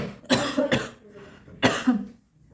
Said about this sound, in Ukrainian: То от такий що трошки дусить кашель, отак півдня